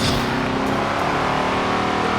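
A 2005 MG XPower SV-R in Forza Horizon 5 holds a steady, loud, droning engine note at high revs, a continuous racing-car hum with no talk over it.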